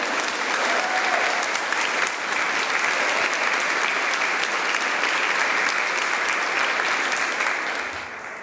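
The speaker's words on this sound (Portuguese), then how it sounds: "Você pode aplaudir esse Deus?" Sustained applause from a church congregation fills the space, dense and steady throughout, with faint cheers and a few voices rising within the clapping.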